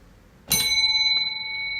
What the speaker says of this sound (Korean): 종을 쳐서 깨울 필요도 없어요.